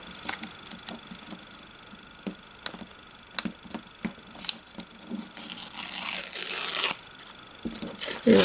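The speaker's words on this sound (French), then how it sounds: "Lui aussi, on va le déchirer." Washi tape is torn by hand for a vintage envelope, with light ticks and crinkles first, then a longer rasping rip of the tape near the end, close and clear.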